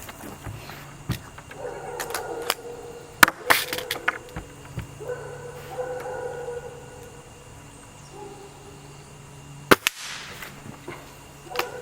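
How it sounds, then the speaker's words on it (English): A Gamo Magnum .22 pellet rifle fires at targets, giving a few sharp cracks spread across the stretch with mechanical clicks and faint rustling in between, fairly close and without talk. "Let's shoot at these targets."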